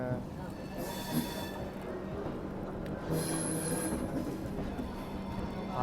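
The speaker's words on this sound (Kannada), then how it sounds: "ಡಿಪಾರ್ಟ್ ಆತ ಕಾಶಿ ಎಕ್ಸ್ಪ್ರೆಸ್ ಲೋಕಮಾನ್ಯ ತಿಲಕ್ ಗೋರಖ್ಪುರ್" The Kashi Express from Lokmanya Tilak to Gorakhpur pulls out of a station with a continuous low rumble and faint wheel squeal, while people chatter close by.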